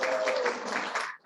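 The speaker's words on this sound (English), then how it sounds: "feel free to applause when they come up" Brief burst of audience applause at an annual club and foundation awards ceremony, steady and fairly loud for just over a second before tapering off.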